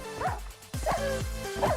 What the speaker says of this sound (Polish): Co to kurde za dzikie psy łażą jeszcze mi?